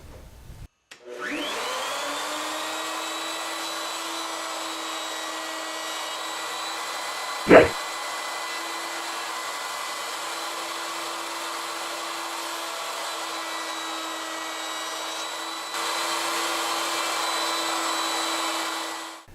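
A table-mounted router with a carbide bit raised high cuts a stepped roundover profile in cherry wood for a step stool. The motor whine is loud and steady, with a single sharp knock midway, and no one speaks.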